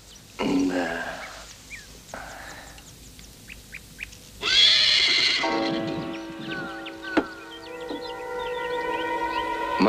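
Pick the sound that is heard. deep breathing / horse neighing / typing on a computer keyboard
horse neighing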